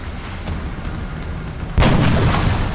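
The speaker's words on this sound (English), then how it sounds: "We're gonna do it with the disabling shot." A disabling shot fired in XCOM Enemy Within, one sudden heavy boom that cuts in after a low ambient rumble and then trails off into a sustained noisy decay, with nobody talking.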